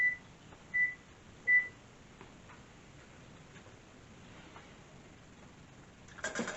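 A kitchen oven being set to preheat to 375, giving three short beeps at the start, then a quiet stretch with faint ticks and a brief clatter at the end.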